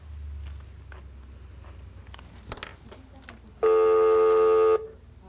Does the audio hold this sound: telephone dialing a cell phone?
yes